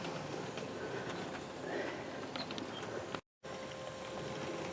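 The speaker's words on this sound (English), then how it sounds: "we'll see how this 11-car train performs" USA Trains 11-car model train rolling around an indoor layout loop of 10-foot diameter, a steady low rumble with faint clicking of wheels over track joints and one momentary dropout.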